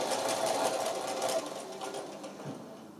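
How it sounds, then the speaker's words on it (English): A sewing machine stitches fabric up to a seam on a bridal bouquet border, a close, steady rapid whirring hum with a fast mechanical needle rhythm throughout. "I'm going to sew right to the edge of it"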